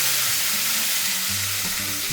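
Tomato curry masala sizzles and fries in a pan, a steady hiss with low bubbling and occasional stirring, close and continuous without any talk.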